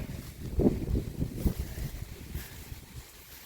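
Cold, gusty wind on a rainy day buffets the microphone in low rumbling bursts, strongest early on, then eases into a steadier rough rush.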